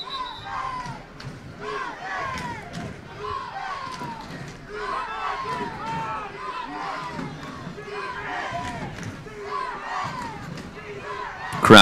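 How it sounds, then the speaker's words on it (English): Fans of the Ventura side at a high school football game cheer and shout in a loose, rolling crowd roar, with scattered yells rising and falling over several seconds, mixed with speech. "Crowd getting into it. The Ventura faithful."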